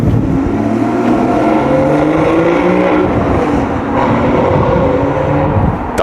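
Porsche Cayman GTS with a 3.4-litre engine running loud and close, a dense steady roar with shifting harmonic tones as revs rise and fall, continuous throughout with no voices.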